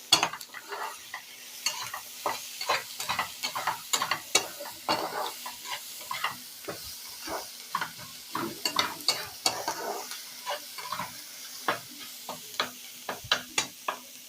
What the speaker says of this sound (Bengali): এই যেখানে বাদাম, ক্যাপসিকাম, সব রকম টমেটো দেওয়া আছে, এর সঙ্গে কিন্তু সব একসঙ্গে ভেজে নেব।